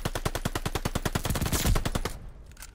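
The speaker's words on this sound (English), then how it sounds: "Pressure putting a full mag through the window there." A full magazine of gunfire is emptied through a window in a video game, a rapid, evenly spaced string of around fifteen close, sharp shots ending in a denser burst and then stopping.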